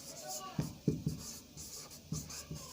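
Short scratchy strokes of writing on a board during a digital electronics lesson, coming in quick close bursts with pauses between them, heard under a teacher's speech.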